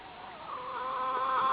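A hen, the smoking chicken, clucking close by in a short run of throaty, wavering calls that build slightly in loudness.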